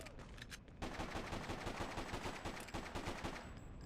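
Rapid pistol fire in the video game Freedom Fighters: a loud, dense burst of shots fired as fast as the trigger allows, with a brief pause near the start, then a continuous crackling volley with no talking.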